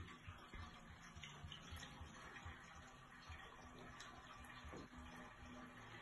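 Distilled water pours through a funnel into the tank of an HG One hay steamer, a faint, continuous trickling and gurgling fill heard close up without talk.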